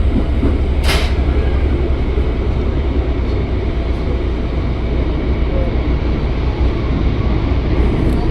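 KRL commuter train rolling into Bogor station on the Depok–Bogor line, a steady loud rumble of wheels and carriage noise heard from inside throughout, with a brief hiss near the start.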